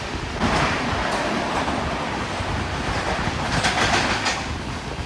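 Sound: train running through tunnels on the Konkan Railway route

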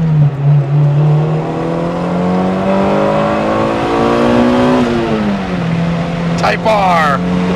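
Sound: Honda car engine revving into VTEC

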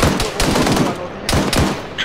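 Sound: gunfire in the video game Arma 3

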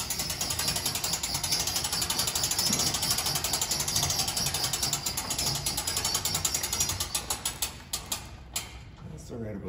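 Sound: cranking up tent trailer roof lift mechanism

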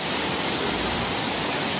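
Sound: waterfall at Roaring River, Jamaica

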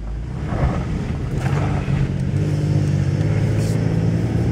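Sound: 2004 Jaguar S-Type car driving and shifting gears

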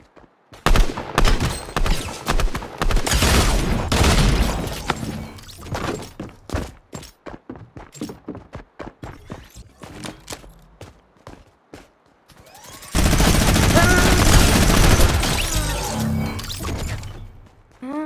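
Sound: shotgun and pistol gunfire in Fortnite video game

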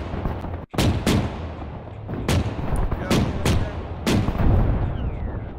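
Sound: shell hitting tank turret in Arma video game

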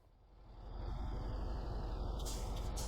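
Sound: truck engine driving off, video game

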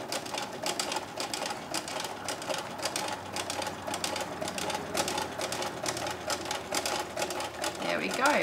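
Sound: sewing machine stitching painted canvas notebook

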